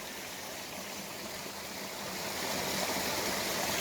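A river stream flows through a pipe at the base of Mount Taranaki, making a constant broadband rushing wash that swells slightly louder toward the end, with no voices.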